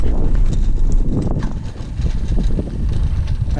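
A horse clip-clops along the Miwok Trail in the Marin Headlands, its hoofbeats steady and close amid heavy wind noise and movement on the trail.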